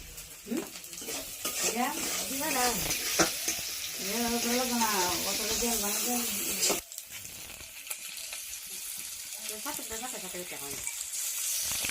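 Curry frying in a pan as ground spice paste is stirred in, a steady broadband sizzle with scraping stirs, while someone talks over it for most of the stretch.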